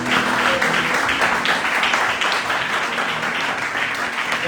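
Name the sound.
congregation applauding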